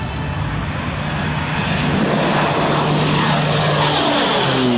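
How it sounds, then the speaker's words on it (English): A Beechcraft 1900 turboprop airliner drones loudly and steadily with its propellers and engines. The roar is continuous and close, with a slight shift in pitch toward the end as it passes. "the future of regional commercial air travel, the Beech 1900 Airliner"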